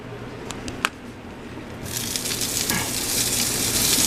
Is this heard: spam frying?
yes